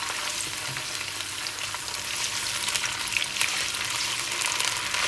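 Garlic and ginger frying in a pan for pakora kadhi, a steady crackling sizzle with a few sharper pops and light stirring scrapes, close and continuous with no voices.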